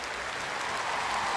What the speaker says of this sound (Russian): Давайте поулыбаемся, поаплодируем